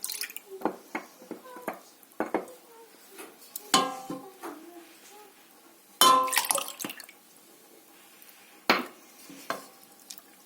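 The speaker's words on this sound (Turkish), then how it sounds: "Şöyle karıştırıyorum güzelce." A spoon stirs pine cone yogurt in a pot, giving soft scattered clinks and scrapes against the metal in irregular bursts, close and fairly quiet, with a few louder knocks.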